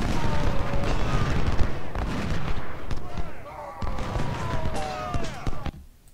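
Gunfire from soldiers in Ultimate General: Civil War, scattered musket shots and volleys popping at varying distances, with booming reports in between and a voice talking over the battle noise.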